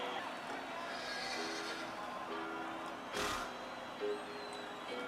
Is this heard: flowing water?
no